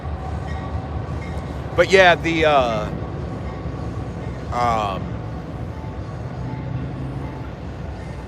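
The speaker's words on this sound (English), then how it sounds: "There's a train going by too" A train passes near an outdoor riverside catfish and carp fishing spot, a steady low rumble of rolling cars running throughout under a man's brief, intermittent talk.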